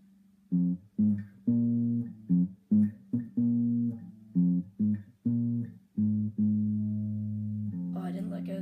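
A riff picked on a single guitar string, a sequence of distinct plucked notes in the familiar rhythm, moderately quiet and close, with the last note left ringing.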